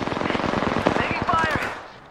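Rapid automatic gunfire rattles in Apex Legends, a close, fast string of shots lasting about two seconds before trailing off, with a game voice calling out over the bursts.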